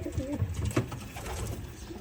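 Pigeons coo in a loft holding breeder hens, cocks and young stock birds, soft low throaty calls overlapping close by for two seconds without speech.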